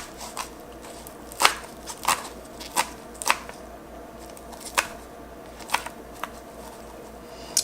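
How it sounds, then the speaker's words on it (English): Knife chopping kale on a cutting board, with sharp, irregular close cuts coming in clusters and pauses over a quiet background. "kind of fold it over and chop it up again"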